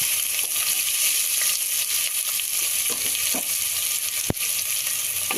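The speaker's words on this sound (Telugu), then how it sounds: "మంచి కలర్ వచ్చిన దాకా మనం ఇది మళ్ళీ ఫ్రై చేస్తున్నాం" Thinly sliced onions sizzle steadily in hot oil in a pan for vegetable biryani, a continuous bright frying hiss with occasional stirring clicks and one sharp knock near the end.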